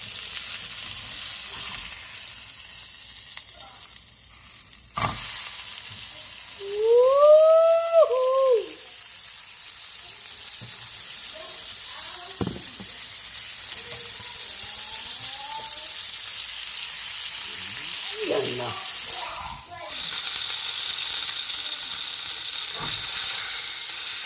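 Hamburger patties, one seasoned with Lipton soup mix, sizzle steadily in a pan, a constant hiss broken by a few scraping clicks and bumps as the burgers are flipped, with no voices.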